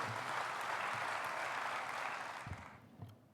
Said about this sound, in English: give a round of applause to Emmanuel Opio